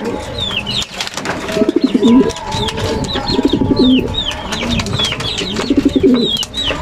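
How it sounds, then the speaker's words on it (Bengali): Racing pigeons coo in repeated low, throaty phrases, with chirping birds and rustling nearby filling the background. "আমার পছন্দের দুইটা কবুতর।"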